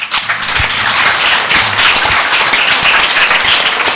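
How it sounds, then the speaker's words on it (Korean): A church congregation applauds loudly during a Sunday service, dense clapping sustained for the full few seconds without pause. "박수로 하나님께 영광 돌리겠습니다."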